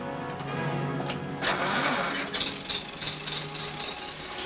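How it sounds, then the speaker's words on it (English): A generator engine is cranked and started in an old 1950s serial, a rising mechanical whir that catches into an uneven running rumble, fairly loud and near. "Start the generator."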